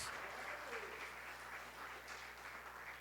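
Congregational applause in a church service praising God, a steady wash of clapping heard at a distance and fairly faint, with a low constant hum underneath.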